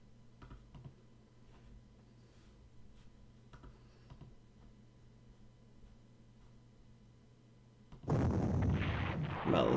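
In the Panzer Corps strategy game, during Operation Sea Lion, artillery opens fire on enemy ships: after a quiet stretch of low hum and soft clicks, a single loud, booming blast erupts near the end and rumbles on.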